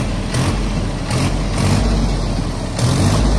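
Mahindra 475 Yuvo Tech Plus three-cylinder tractor engine running steadily, a low continuous rumble with a few slight surges in level, heard close and alone.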